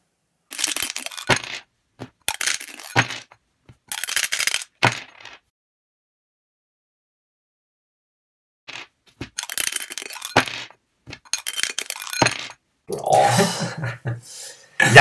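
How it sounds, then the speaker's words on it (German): Dice rolled repeatedly for a probability exercise, clattering in quick bursts of rattling taps separated by pauses and a long silent gap, fairly close and loud. "Sagen Sie, Sie müssen 120 Mal würfeln."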